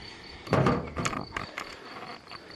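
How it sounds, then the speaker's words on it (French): Honey bees inside a wooden hive give a steady, soft buzzing hum beneath a few close knocks and rustles as the hive cover is handled and put back. "On a bien les abeilles dedans."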